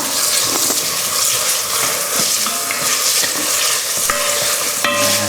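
Sausages and bacon lardons sizzling in a pot while being stirred, a loud continuous crackling fry with occasional scrapes and clinks of the spoon against the pot.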